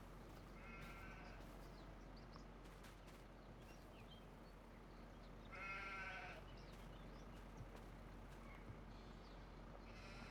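Sheep bleat in the Farming Simulator 25 video game, two or three wavering calls at moderate distance over a steady low engine-like hum, with no talk over them.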